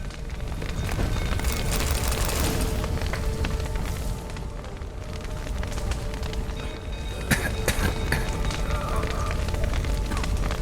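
Fire spreading through a burning building in The Witcher 3, a steady roaring crackle with dense broadband noise and scattered sharp snaps, holding loud and constant throughout with a brief louder burst near the end.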